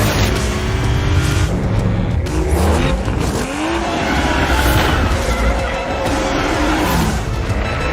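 A Toyota car driven hard through corners, engine revving loudly with tire squeal and skidding sweeping up and down, sustained and close throughout.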